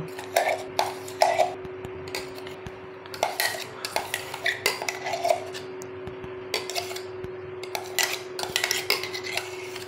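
A milk mixture with coconut paste is stirred in a bowl, giving a close series of irregular clinks and scrapes of a utensil against the bowl, with no talk.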